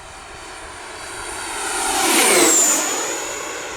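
An RC BAE Hawk with an 80mm electric ducted fan jet screams past at full throttle, low and level over a runway; the whine swells loud as it nears, peaks with a falling pitch and fades.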